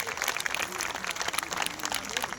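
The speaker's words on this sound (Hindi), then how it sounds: "जोर से ताली बजाकर उनका स्वागत करेंगे" Audience applause in a Brahma Kumaris spiritual gathering, steady clapping from a crowd filling the whole moment at moderate loudness, with a faint murmur of voices underneath.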